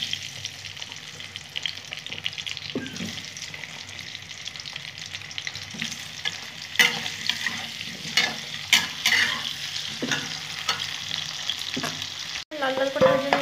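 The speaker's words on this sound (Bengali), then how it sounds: "আলুগুলো ভেজে নেবো লাল লাল করে।" Potatoes frying in oil until reddish, a dense steady sizzle up close with frequent stirring scrapes and clatters of a spatula, growing busier toward the end, no voices.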